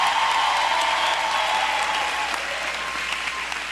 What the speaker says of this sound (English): Clap it up for your pastor.